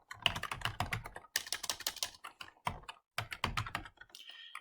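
Fingers type on a computer keyboard in quick bursts of close, crisp key clicks, broken by short pauses, with no voices.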